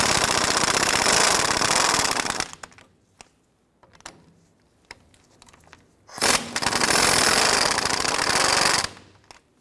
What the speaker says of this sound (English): Loosen the adjuster nut screws using a 15 millimeter socket.